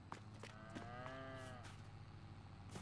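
A cow in the Farming Simulator 22 video game lets out one long, drawn-out moo over a steady background hum, with faint clicks around it.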